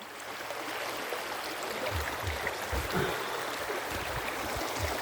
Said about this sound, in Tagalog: Nasa ilog pidok tayo.